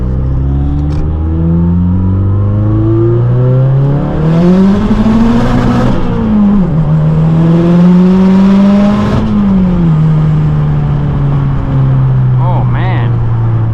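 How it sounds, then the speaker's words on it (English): A Mazdaspeed 3 running on pump gas pulls hard through second gear, its engine note rising loud and steady with a turbo whir, a brief dip and another climb, heard from inside the car. "Let's try a little second gear with a little bit of data logging happening."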